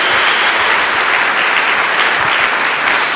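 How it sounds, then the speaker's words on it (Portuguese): Loud, dense congregation applause during a church service, an even, continuous roar of many hands clapping for several seconds, with a bright hiss entering at the very end. "Dê uma salva de palmas a Jesus."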